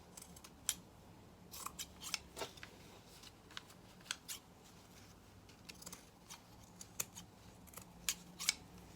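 Scissors cut through sweatshirt material in repeated crisp snips, some closely spaced and others spread apart, near and fairly quiet, with no talking.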